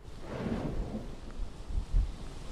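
Wind and rain lash a flooded downtown West Palm Beach street during a king tide, a steady low rumble of gusts with heavier thumps near the end, fairly faint and without voices.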